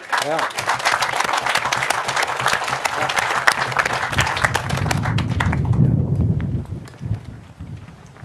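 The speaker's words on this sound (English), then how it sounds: "Round of applause." Audience applause at a historical association anniversary program, a steady wash of clapping under mixed voices that thins out and fades toward the end.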